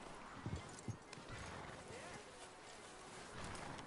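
Horse hooves clip-clop a few times up close in the Red Dead video game, with scattered impacts and a low rumble, while a voice talks over the scene.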